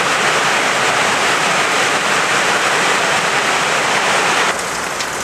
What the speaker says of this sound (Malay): Angin pun kuat sekarang ni.